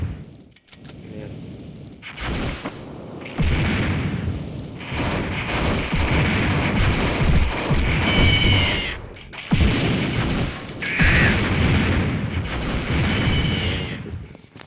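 Gunfire in the Mini Militia mobile shooter comes in loud, repeated bursts with short gaps, under someone talking over the action.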